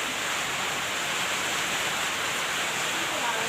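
Steady rain falls in an even, continuous hiss that fills the whole moment, with no breaks or separate drops standing out.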